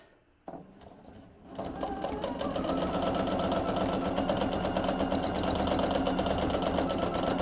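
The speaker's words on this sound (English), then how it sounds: "And on this lap, sometimes it overlaps the first round of stitches." A sewing machine stitches a second lap around a piece of canvas bird art, starting with a brief whir and then settling into a steady, fast, close-up mechanical run that continues without talk.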